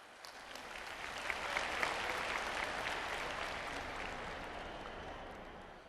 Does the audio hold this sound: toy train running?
no